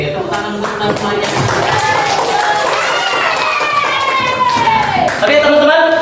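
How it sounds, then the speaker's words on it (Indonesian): Students applauding in a classroom, a dense and continuous patter of hand claps throughout, with voices talking and calling out over it. "Oke, tepuk tangan untuk kita semuanya."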